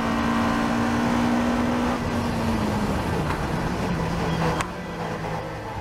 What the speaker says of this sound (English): Now we jump on board with the Pro Class winner, car number 7, David Long